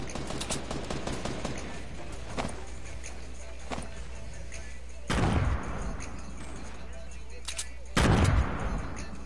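Video game gunfire crackles in scattered shots and bursts, with two heavier, louder blasts standing out near the end over a steady low background rumble.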